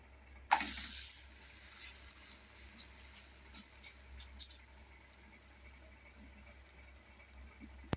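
A faint, steady sizzle of wheat parotta frying on a hot pan with light oil, starting with a brief hissing burst and continuing softly throughout.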